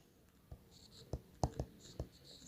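A pen scratches out short strokes on paper while working a trigonometry problem, a handful of quiet, close taps and scrapes spaced irregularly over a near-silent background.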